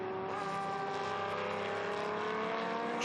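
Historic race cars including a Chevron B8, a B16 and a McLaren at Estoril, loud sustained engine roar at high revs as the cars run close together, steady and continuous.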